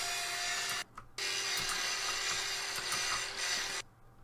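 An angle grinder strips rust in Tank Mechanic Simulator, giving a loud, steady grinding whine that cuts out briefly near the start, resumes and then stops, with no talking.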